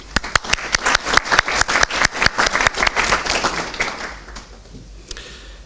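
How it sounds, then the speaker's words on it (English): Conference audience claps in a burst of loud, sharp, close hand claps that blend into steady applause and then fade out near the end, with no talking over it. "So an applaud for Anna-Karin and Christer."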